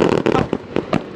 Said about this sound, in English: And the fireworks are going on.